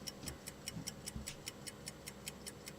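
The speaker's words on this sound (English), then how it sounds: "what's with the ticking?" Steady clock ticking, a regular tick-tock at about four beats per second, faint and close, with low background rumble and no talking.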